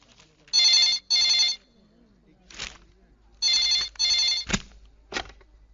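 An old-fashioned telephone bell rings in loud repeated bursts, two long rings, a pause, then two more, with short thumps and faint sounds between them in an indoor office scene.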